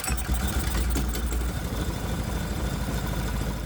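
A 212cc Predator single-cylinder engine running at a steady idle, a loud, rough, low chugging pulse close by with fast irregular knocking, and no talk over it.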